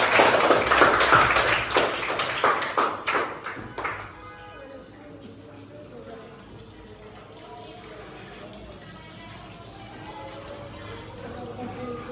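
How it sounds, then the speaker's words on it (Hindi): Classroom of schoolchildren clapping for their teacher during a lesson on smoke and the lungs, a burst of brisk, dense applause for about four seconds that then fades, leaving quiet room noise and faint voices. "ताली बजा दो एक बार मैडम को।"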